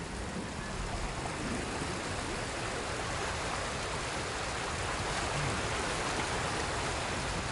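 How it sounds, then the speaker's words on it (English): A waterfall in the Ghost of Tsushima video game roars as a steady, dense rush of falling water, loud and unbroken from start to finish. "Under the waterfall."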